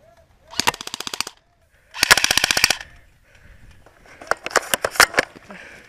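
Three bursts of rapid automatic gunfire in a military shooter video game, fired from a tall structure at a wall, each burst a dense rattle of shots with short pauses between, loud and close.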